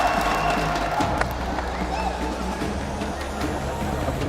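Crowd cheering and clapping at a Fortnite esports event on stage, a steady roar of applause and cheers with babble underneath, fairly loud and continuous throughout.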